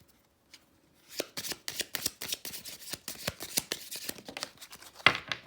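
Tarot cards are shuffled in a quick run of crisp riffling flicks and slaps, close up, after a moment of near silence.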